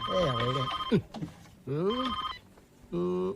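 An old-style telephone bell rings in a Telugu film scene, sounding in three bursts separated by short gaps, fairly close and clear, with brief voice sounds between the rings.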